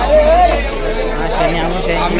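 A dense, loud crowd of devotees fills Bhadra Maruti temple on Shani Amavasya, overlapping chatter and babble all around, with someone talking over it close by.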